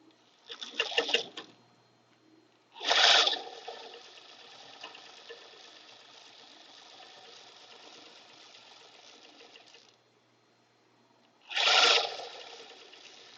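A KnowMe ME2012 industrial sewing machine stitches in three short bursts, each a second or two long, with a faint steady hum from the machine between the first two runs and then a brief quiet gap.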